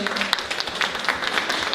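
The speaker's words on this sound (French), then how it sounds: "on peut applaudir nos intervenants s'il vous plaît" Audience applause for conference speakers at a talk on men's mental health, a steady wash of many hands clapping close by, filling the room evenly from start to end.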